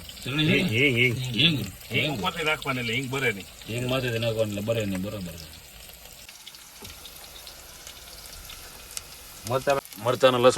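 Garlic is added to a pan with green chilli and fries with a soft sizzle, heard under someone talking at first and then more faintly alone.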